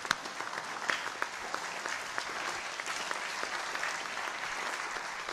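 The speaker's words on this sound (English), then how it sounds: "Let's give him a good standing ovation and applause." Dense, sustained clapping from a large crowd giving a standing ovation to a chief guest at a Catholic AMECEA plenary assembly, steady throughout with a few sharper claps near the start.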